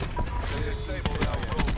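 Rapid gunfire in the video game Black Ops 4, a dense burst of shots that grows sharper and more clipped toward the end, loud and close throughout.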